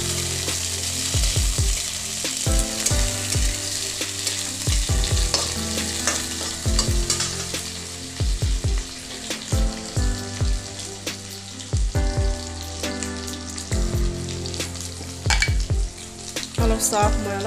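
Potatoes and onions fry in a pan, a steady sizzle broken by regular scraping stirring strokes that repeat every second or two, loud and close.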